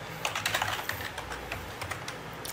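Typing on a computer keyboard while setting up an Android app drawable resource file, with quick, irregular key clicks running steadily and fairly close, with no talking.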